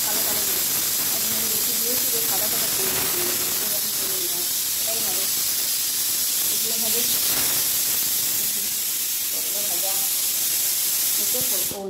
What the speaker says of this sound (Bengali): ও নিচে মনে হয় সিটি পড়ছে